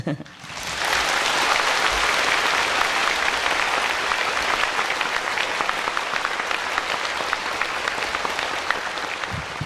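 An audience claps loudly and continuously after a spiritual talk, with the applause rising after a brief quiet start and holding steady to the end.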